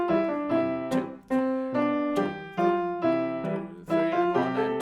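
Piano is played at tempo 138, with regular struck chords about once a second over moving bass notes, in a steady pulse, close and alone.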